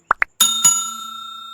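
A notification bell effect: two short plops, then two bright bell dings that ring out and slowly fade, loud and clear with no talking.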